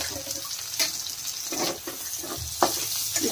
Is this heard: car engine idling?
no